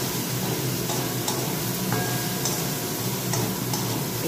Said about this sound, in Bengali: এগুলো একটু ভেজে দিই।